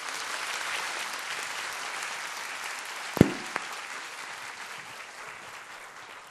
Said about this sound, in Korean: 오실 때 큰 박수 부탁드립니다.